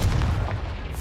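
A short booming blast from a Confringo explosion spell cast in the Hogwarts Legacy video game, one loud, close, low-heavy burst lasting about a second.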